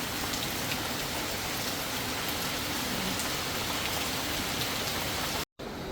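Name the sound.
heavy rain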